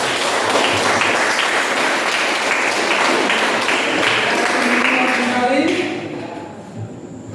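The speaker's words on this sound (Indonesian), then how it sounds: "Bagus sekali, tepuk tangan." A group in a classroom claps in sustained, dense applause for several seconds, then it thins out and fades, with a few voices murmuring as it ends.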